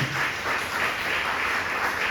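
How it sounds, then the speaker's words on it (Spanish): A church congregation claps steadily in praise, a continuous, moderately loud wash of many hands with no distinct individual claps standing out. "Dale un fuerte aplauso al Señor Jesucristo."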